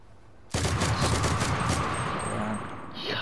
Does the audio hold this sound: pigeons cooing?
no